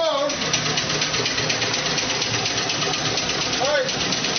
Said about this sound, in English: the pump is drawing up the generator, forcing that wheel to turn it